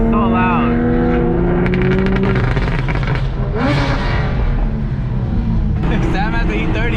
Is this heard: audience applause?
no